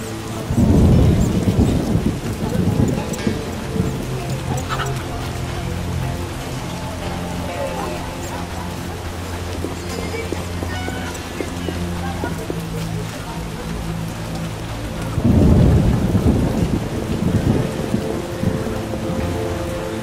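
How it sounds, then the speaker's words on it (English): Heavy downpour with rolling thunder in The Witcher video game, a steady roar of rain with two loud thunder rumbles near the start and again toward the end. "A real downpour."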